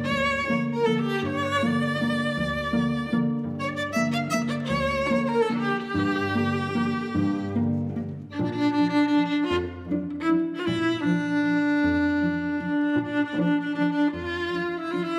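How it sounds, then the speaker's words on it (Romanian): A waltz with Romanian folk elements for a 100-piece orchestra plays continuously and loudly, its lilting main theme carried by horn and then violins over full sustained string and wind harmonies, with no talking. "E un vals pentru o orchestră de 100 de oameni, dar cu elemente românești pe care eu le-am adăugat acolo"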